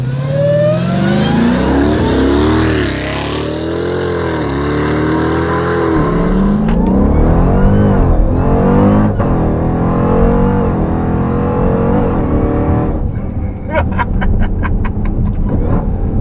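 A 1,000 horsepower Jeep Grand Cherokee daily driver launching in launch mode, its engine roaring loudly and rising through several hard gear pulls, close and sustained with no talk.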